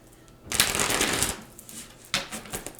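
Tarot cards are riffled in a quick, crisp flurry lasting about a second, then a shorter shuffle follows, close and clear with no talking.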